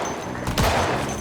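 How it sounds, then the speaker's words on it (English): Gunfire in the zombie survival game Project Zomboid, playing on the France map mod with bandits: a single loud, booming shot at mid-clip rises over a steady background of ambient game noise. "Here come the zombies reacting to that gunshot."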